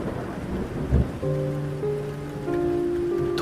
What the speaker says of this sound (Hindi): बारिश अब और भी तेज हो चुकी थी।